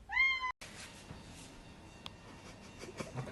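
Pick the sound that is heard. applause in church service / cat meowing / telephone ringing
cat meowing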